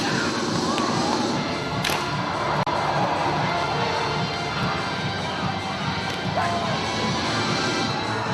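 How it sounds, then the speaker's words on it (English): At a Taekwondo demonstration, a performer smashes thick poles with hardened parts of his body. Sharp cracks and thuds ring out over the constant noise of a large crowd of spectators. "He is smashing every attacking thick pole with various hardened parts of his body"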